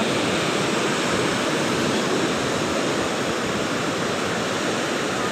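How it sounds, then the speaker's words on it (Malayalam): Big sea waves at Kozhikode beach make a loud, continuous broadband roar of surf that does not let up and has no voices over it. "വലിയ വലിയ തിരമാലകൾ ഒരുമിച്ച് വരുന്നാണ്ടോ"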